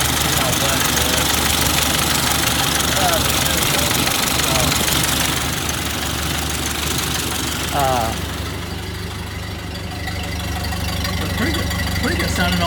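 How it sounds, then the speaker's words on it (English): Engine of a 1930 Ford AA truck with a radiator leak and poorly retarded spark running at a steady idle, loud and close with a knocking vibration, while someone talks over it. "Pretty good sounding old motor."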